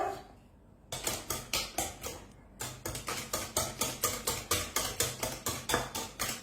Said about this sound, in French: Maintenant, je prends un batteur.